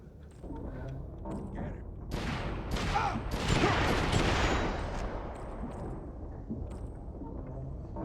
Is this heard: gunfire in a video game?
yes